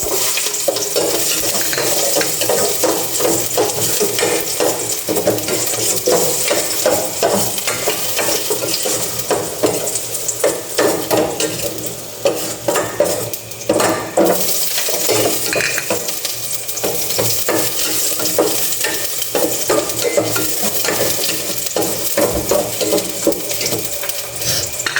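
Garlic and onion sautéing in a pan for pork adobo, with a steady close sizzle and frying crackle running the whole time, mixed with stirring scrapes and some running-water sounds, no talking.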